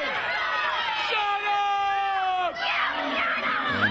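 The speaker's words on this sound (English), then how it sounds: "And the crowd here letting Ivan know exactly what they think of him" A wrestling arena crowd jeers and boos a disliked champion, with loud, sustained massed voices rising and falling continuously throughout.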